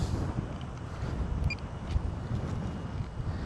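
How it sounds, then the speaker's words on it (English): Strong, gusty wind buffets the microphone at a windy FPV drone flying field, a steady low rumble with faint intermittent clicks and no talking. "It's very windy, y'all"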